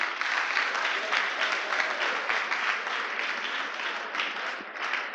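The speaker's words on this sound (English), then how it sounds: "A round of applause for him." A crowd at a school gardening and small animal rearing competition in Ghana claps steadily for a school representative, a dense, even applause heard from within the audience, moderately loud and sustained throughout.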